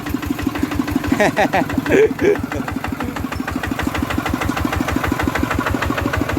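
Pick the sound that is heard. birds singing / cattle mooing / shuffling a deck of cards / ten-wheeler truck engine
ten-wheeler truck engine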